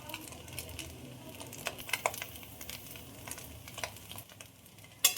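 Fried rice is stirred in a pan over a faint sizzle, with soft scrapes and light clicks of the spoon and a sharp clink at the end.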